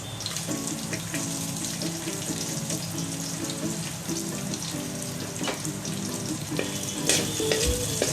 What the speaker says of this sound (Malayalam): വെളുത്തുള്ളി ഒന്ന് വഴറ്റിയതിന് ശേഷം നമുക്ക് ഇതിലേക്ക് സവാള ആഡ് ചെയ്ത് കൊടുക്കാം